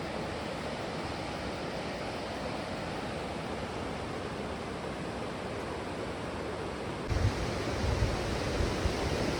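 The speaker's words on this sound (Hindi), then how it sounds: "बहुत ही सुंदर नदी के कल कल बहने की ध्वनि है।" The Yamuna river near Yamunotri rushes past in a continuous broadband roar of flowing water, loud and close, with a slight rise in rumbling, wind-buffeted noise toward the end.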